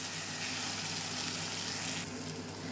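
Chicken masala shallow frying in a pan gives a dense, steady sizzle that stays loud and even throughout, its hiss thinning slightly near the end, with no talking.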